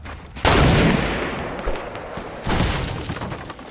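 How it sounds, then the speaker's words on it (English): Sniper shots in a battle-royale style shooter game ring out as two loud, sharp blasts about two seconds apart, each followed by a long rolling echo that fades slowly. "Someone just sniped at me"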